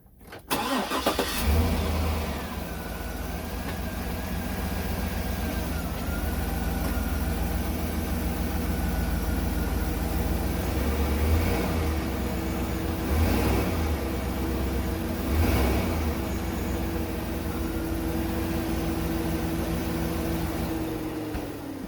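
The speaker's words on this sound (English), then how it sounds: "put your foot on the brake while it's running and give it gas, and we should see the motor tilt dramatically." A GMC Yukon Denali engine with a worn driver-side motor mount is revved in gear with the brake held. It gives a loud, close, sustained drone with slight swells in intensity and no talking.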